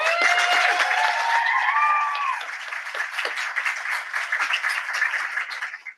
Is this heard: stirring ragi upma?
no